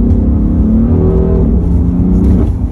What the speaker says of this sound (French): Là, t'es en clapet ouvert, là, Kev? Là, je suis en ouvert